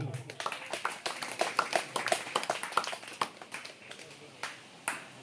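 An audience at a social media meetup claps, a scattered patter of hand claps that is quiet and somewhat distant, thinning out toward the end.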